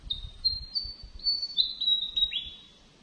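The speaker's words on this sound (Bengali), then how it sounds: "এই পাখিটার ডাকটা খুব সুন্দর, ওই সামনে গাছে আছে," A small bird sings a thin, high warbling phrase with quick chirps from a tree in the Sundarbans, slightly distant, over quiet low rumbling background.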